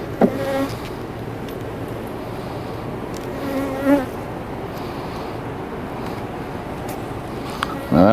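Honey bees buzz steadily around a hive, a dense continuous hum with individual bees droning past close by.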